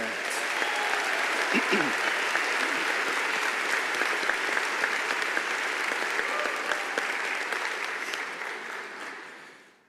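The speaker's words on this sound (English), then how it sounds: "Can we have a round of applause for the Bachelors of" Sustained audience applause at a university graduation ceremony, a dense roar of many hands clapping steadily for nearly ten seconds before tapering off, with a brief spoken word near the start.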